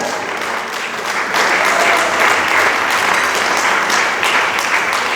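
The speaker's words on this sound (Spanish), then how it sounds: "Dele palmas al Dios del cielo" A church congregation applauds God during a pastor's sermon with sustained, dense clapping that grows slightly louder partway through, while a voice speaks briefly over it.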